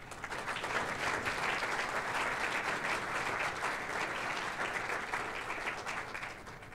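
Graduation ceremony audience applauding for College of Agriculture students at an outdoor fall celebration: a steady, fairly distant wash of clapping lasting several seconds, fading slightly at the end.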